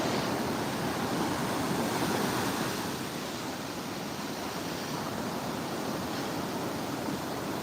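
Ocean surf at Cocoa Beach, Florida, rushes in a steady, dense wash of breaking waves with constant hiss and low rumble, loud and continuous with no voices.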